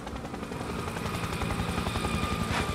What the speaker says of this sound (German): da kommt ein Heli